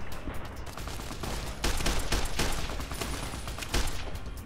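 Rapid gunfire in Fallout: New Vegas with armor-piercing rounds, a dense burst of repeated shots with louder cracks partway through, loud and continuous over about four seconds.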